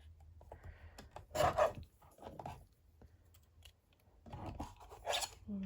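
Scissors snip through paper scraps being trimmed for layered heart embellishments, two short close bursts of crisp cutting separated by quieter rustling, with no talking.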